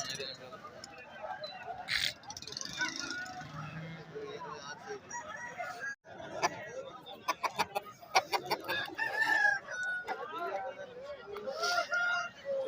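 At a country chicken market, native fowl and fighting roosters cluck and squawk nearby in irregular bursts, with a rooster's crow among them, while people talk in the background.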